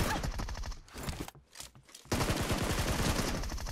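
Rapid gunfire from the mobile battle royale PUBG Mobile: dense bursts of shots ring out, pause briefly in the middle, then resume as sustained close automatic fire, with no talking over it.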